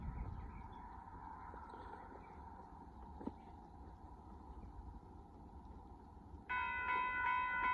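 An Amtrak Texas Eagle 22 passenger train approaches at a road crossing in Austin, Texas; a faint distant rumble and ringing crossing tone build, then a loud multi-tone horn blares in the final seconds.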